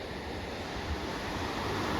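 Black Sea waves washing onto the beach at Varna, Bulgaria, a steady soft surf wash with some wind rumble, fairly faint and without voices.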